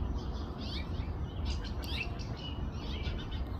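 Small birds chirping outdoors near a pear tree, red-headed finches among them, with scattered high twittering calls over a steady low rumble of background noise.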